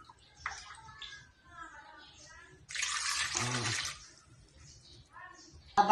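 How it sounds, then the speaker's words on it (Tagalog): Water pouring into a pot, about two cups, for a homemade cough remedy, a broad rushing splash lasting just over a second between stretches of nearby speech. "Two cups lang ito ng ilalagay na tubig."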